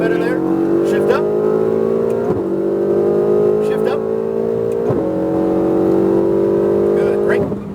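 A sports car accelerating on the Speed Vegas track, its engine note climbing steadily through the gears with two clear upshift drops, loud and close, while an instructor talks over it.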